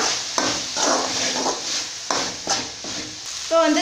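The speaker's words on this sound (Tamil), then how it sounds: "இப்போ இது எல்லாத்தையுமே நல்லா வந்து மிக்ஸ் பண்ணி விட்டுறலாம்." Spices being stirred into a snake gourd and tomato kulambu in a pan, with a spoon scraping and clinking against the metal in several short strokes, close up, over a faint sizzle and no talking.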